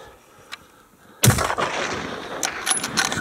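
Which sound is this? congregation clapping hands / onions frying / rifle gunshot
rifle gunshot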